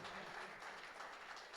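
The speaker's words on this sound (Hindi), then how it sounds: "जोरदार तालियां चाहूँगा दोस्तों" Dense, steady applause from a crowd at an Independence Day (15 August) celebration, a continuous rushing wash of clapping heard from a distance.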